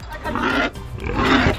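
A pig squeals in two long, harsh, noisy bursts with a short break between them. The animal is close and loud.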